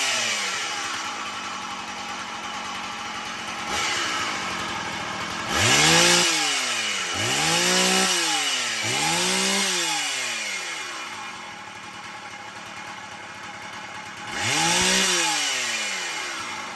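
A Stihl MS170 chainsaw whose engine still sounds rough idles unevenly, then revs up in four loud rising-and-falling bursts, nearby and alone without talk.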